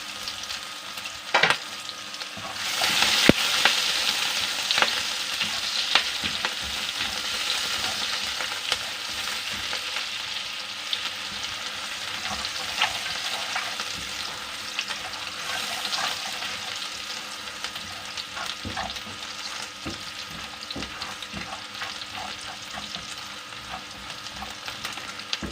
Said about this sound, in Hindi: अब हम इसमें डालेंगे बारीक कटा हुआ लहसुन है, साथ में अदरक है बारीक कटा हुआ, वो भी हम इसमें डाल देंगे।